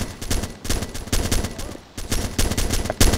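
Automatic gunfire from the military video game ArmA 2 comes as loud, rapid, continuous bursts, closely spaced and densely layered, with only brief pauses between volleys.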